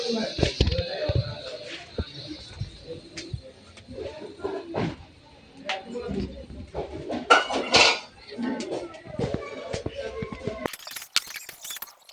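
A metal bowl of water is set on a small gas stove and covered with a lid, giving sharp clinks and clatters of metal cookware scattered over quiet moments, with a louder cluster of knocks near the middle.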